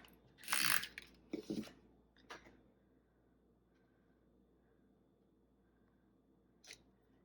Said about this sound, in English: Don't need a ton of this tape runner.